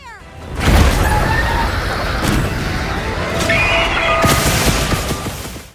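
Gunlance charged shelling in Monster Hunter, a burst of loud, booming explosions that rolls on continuously, layered blasts and crackling debris over a game soundscape, with faint ringing effect tones.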